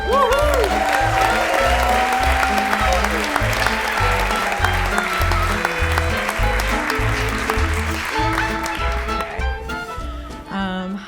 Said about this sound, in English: ladies and gentlemen, please make some noise for Nicole Ferraro.